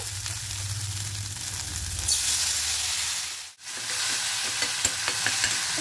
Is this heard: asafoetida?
yes